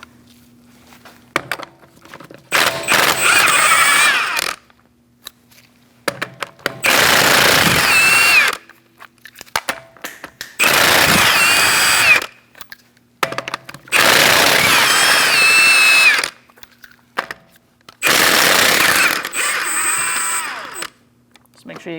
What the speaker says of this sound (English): Using a 19mm socket, we're going to remove our lug nuts.